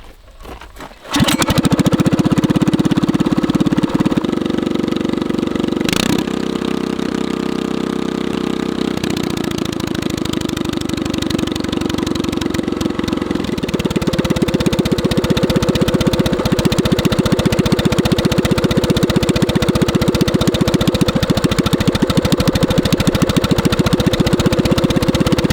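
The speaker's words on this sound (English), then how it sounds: "You'll notice that it changes the exhaust sound considerably, and this is even more obvious at lower RPM." An engine with a straight-pipe exhaust and no muffler runs at low RPM, a loud, raw, steady drone that shifts in tone partway through and keeps going without pause.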